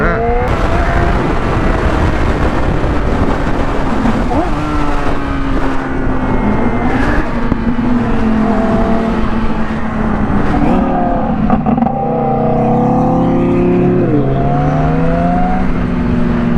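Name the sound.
1600 hp twin turbo Audi R8 accelerating past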